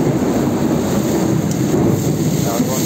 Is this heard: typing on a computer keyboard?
no